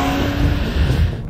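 A Porsche 911's 3.8-litre engine, which revs to 9000 rpm, drones loud and close in a steady, sustained run.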